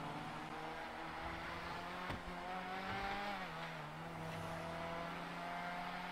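A Warrener HKR car engine in GTA Online hums steadily and revs up, its pitch climbing then dropping through a gear change, with a smooth, slightly synthetic tone and no voices.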